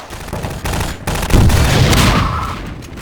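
Gunfire in Half-Life 2 on hard difficulty near the Citadel: a few sharp shots early, then a loud booming burst that rolls out and fades under continuous game ambience.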